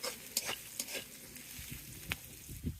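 Chillies are stir-fried in a pan over an earthen clay stove outdoors, a faint sizzle broken by several sharp scraping strokes of a spatula.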